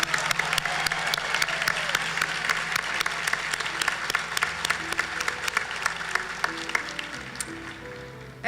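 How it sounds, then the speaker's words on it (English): An audience applauds graduates at a 2017 college nursing program pinning ceremony, steady crowd clapping that carries evenly through the whole stretch, moderately loud and unbroken, with no talking over it. "How about another round of applause for our graduates?"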